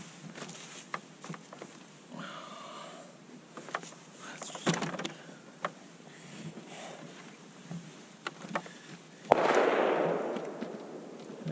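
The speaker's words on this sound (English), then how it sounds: "I'm going to flip these blocks and shoot that." A single loud rifle shot from a 300 PRC cracks out near the end at an outdoor range, following scattered quieter knocks and handling sounds.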